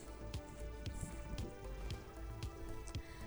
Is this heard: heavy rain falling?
yes